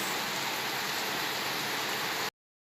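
Rain falling outdoors makes a steady, even hiss that holds for about two seconds, then stops abruptly.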